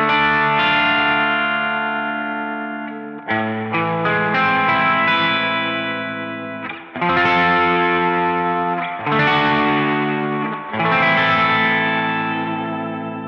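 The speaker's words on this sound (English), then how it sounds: "Now let's add the reverb." Electric guitar with tremolo and reverb for a spaghetti western tone, loud sustained chords pulsing in a triangular wobble, struck in four or five phrases with ringing reverb tails between them, no talking.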